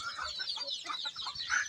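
Chickens cluck softly and continuously on a family farm with cattle and goats, a few birds close by making quiet, overlapping calls at low volume.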